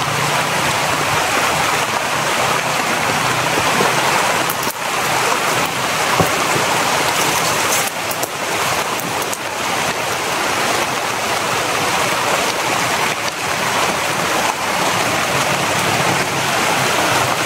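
Heavy rain pours steadily in the mountains, a dense, continuous roar of water with no breaks, loud and close throughout.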